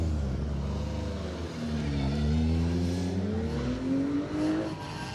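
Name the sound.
Ford Escort Mark IV 2 litre rally car driving in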